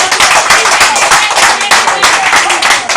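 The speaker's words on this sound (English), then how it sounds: "Give a clap offering to the Lord." A church congregation claps steadily and loudly throughout, dense overlapping hand claps filling the room with a continuous roar of applause.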